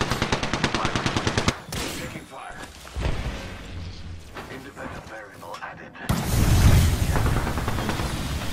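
Automatic gunfire in the video game Apex Legends, loud and close, a fast regular burst followed by heavier shots and booming fire, with voices talking over it.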